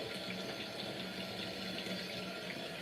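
An LG ThinQ washing machine filling with water, a constant close rushing flow with a low hum beneath, steady and unbroken throughout.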